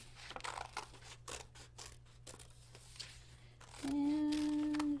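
Scissors snip through paper in a series of short cuts around a hand-shaped cutout, close and fairly quiet, over a steady low hum, with a sustained tonal whine entering near the end.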